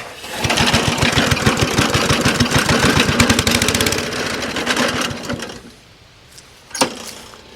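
The Honda engine of a commercial push mower runs at medium throttle with a fast, steady, loud chugging putter for about five seconds, then dies away; a single sharp knock follows near the end.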